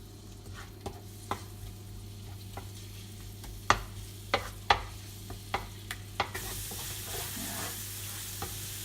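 Garlic sizzling in a pan for caramel pork while a spoon stirs it, soft steady frying hiss with a series of sharp clicks and scrapes from the utensil against the pan, fairly quiet and without talking.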